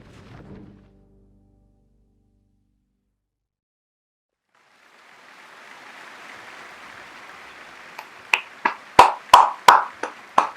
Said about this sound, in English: I think my clap sounds weird